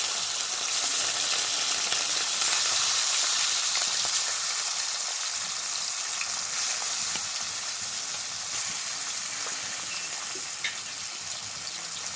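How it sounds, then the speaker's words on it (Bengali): Fish pieces fry in hot oil in a wok, a continuous hissing sizzle with scattered faint pops and crackles, moderately close but fairly quiet and steady for the whole stretch. "এবার মাছগুলো ভাজবো।"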